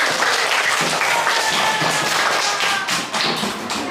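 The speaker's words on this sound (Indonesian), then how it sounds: "Kasih tepuk tangan untuk kelompok religius." Classroom applause for a discussion group of students, dense, loud clapping from many hands close by, continuous and busy with thumps mixed in, lasting the whole stretch.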